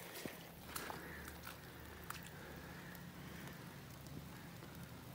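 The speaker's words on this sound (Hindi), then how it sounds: "अभी तक हल्की हल्की बारिश हो रही है" Soft, steady patter of light rain falling outdoors, a gentle continuous hiss with a few faint drips, no voices.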